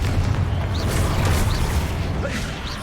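A Confringo explosion spell going off in Hogwarts Legacy, a dense loud booming burst with rumbling low end and chaotic combat noise throughout, with small whooshing accents.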